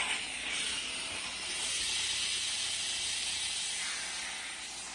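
Oreck steam mop switched back on and steaming, giving a steady loud hiss with faint mechanical clicking that swells and holds for several seconds, then eases slightly, with no talk.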